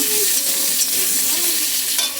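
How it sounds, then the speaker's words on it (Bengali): Potatoes sizzle steadily in a hot pan of oil, a constant crackling hiss with faint scraping now and then, close up. "আলুটাকে একটু ভেজে নেব"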